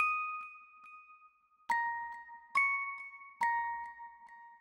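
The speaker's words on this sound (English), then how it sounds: "add this bell from Omnisphere. It's called the Tape Celeste Strings preset." Omnisphere Tape Celeste Strings bell preset playing a soft, clear melodic line: a sustained tone at first, then three struck bell notes that each ring out and decay, with no voice.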